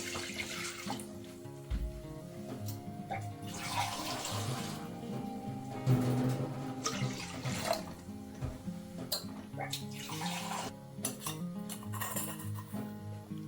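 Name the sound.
water being poured into a wok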